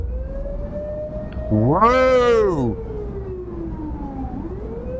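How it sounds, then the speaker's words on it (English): In The Precinct video game, a police siren sweeps up and back down in a loud, brief wail over a fainter steady tone, while a man exclaims once. "Oh, a random siren."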